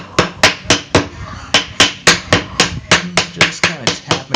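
A hammer taps glued wooden Viking shield boards into alignment, about twenty sharp, close knocks in an irregular rhythm, some in quick pairs, with no talk over them.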